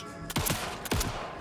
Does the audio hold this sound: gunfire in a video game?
yes